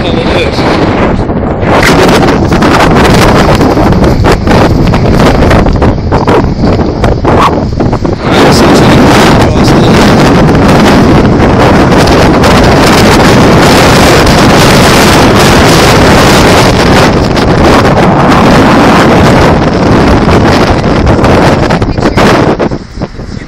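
Loud, continuous wind buffets the microphone, roaring and rumbling without a break for the whole stretch.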